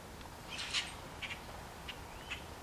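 Blackbirds calling from a tree: a few short, faint squawks and squeaks scattered over quiet outdoor background hiss, with no one talking.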